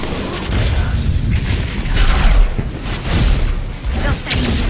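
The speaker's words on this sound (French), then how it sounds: "j'envoie les missiles. J'ai détruit un bouclier ennemi." Missiles fired in a video game, with rumbling blasts, whooshes and mechanical clanks layered over a dense, loud background of battle noise, several impacts spread across a few seconds.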